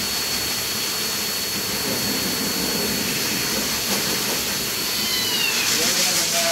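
A pet blower dryer roars at full power, a loud continuous rushing hiss with a faint high whine, nearby and unbroken.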